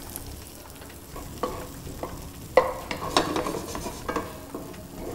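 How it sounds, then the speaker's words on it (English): Tomatoes go into a pan of golden frying onions and set off a close crackling sizzle, with a spoon scraping and stirring through the pan and a few sharper clacks, and nobody speaks. "Once the onion is getting nice and golden, we add our tomatoes."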